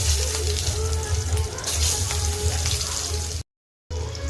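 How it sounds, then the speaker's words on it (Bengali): Onions dropped into hot oil sizzle loudly and continuously, a close crackling fry that cuts off abruptly near the end and then resumes briefly. "পেঁয়াজগুলো দেওয়া হচ্ছে।"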